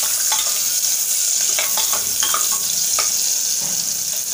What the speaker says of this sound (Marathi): एक छोटा कांदा आपण बारीक चिरून घेतलेला आहे तो टाकूया फोडणीला।